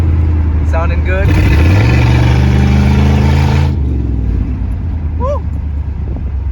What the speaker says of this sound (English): So we're out here driving the El Camino. Finally, sounding good.